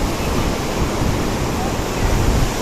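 Canal water rushes and slides down a drop in a steady, loud, broadband wash that continues unbroken throughout.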